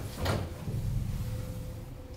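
A locked apartment door in an empty old house in a video game is tried once: a short rattling knock near the start, then a low, dull rumble fading out, with no voices.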